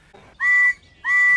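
A toy tram engine gives two clear, loud whistle blasts, each steady and about a third of a second long, with a short gap between them.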